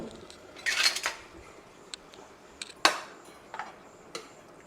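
A spoon scrapes and taps through sticky cooked dosa batter inside a pressure cooker, giving a few close metallic clinks and scrapes at irregular intervals in an otherwise quiet room.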